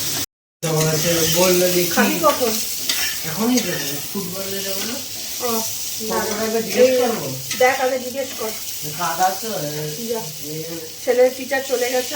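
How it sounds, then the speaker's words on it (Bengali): Sliced pointed gourd fries in a pan with a constant hissing sizzle, heard under a person talking most of the time. "এবার পটল ভাজা করছি"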